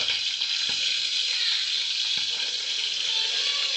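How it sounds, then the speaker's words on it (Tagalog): Popcorn kernels in a covered pan crackle over a constant oily sizzle, with a few sharp pops standing out, close and fairly loud. "pumuputok ang ating mga popcorn"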